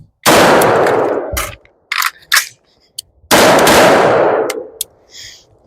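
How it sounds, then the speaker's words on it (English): Rifle shots at an outdoor training range, with two loud blasts each followed by a long echoing decay and a few sharp metallic clangs between and after them. "Some of you guys see those last two shots."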